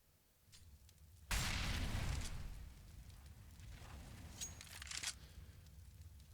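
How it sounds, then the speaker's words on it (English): A flashbang grenade goes off over a broken wall on the Cobblestone map in Counter-Strike, one loud, sudden broadband blast followed by a ringing, lingering rumble with faint game effects after it. "Flashbang out over the top of"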